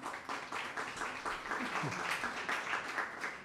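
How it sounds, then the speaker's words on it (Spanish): Audience applause at a regional learning session, steady dense clapping running throughout at moderate level with a voice faintly underneath. "Yo me sumaría al aplauso si no tuviera el micrófono en la mano."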